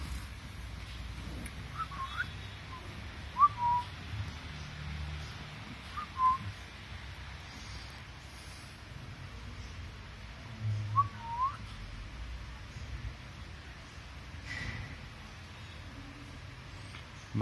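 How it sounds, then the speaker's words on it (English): A female budgie gives a few short, faint whistled chirps spaced several seconds apart over a low indoor rumble, with long quiet gaps between them. "This one is of course a female budgie."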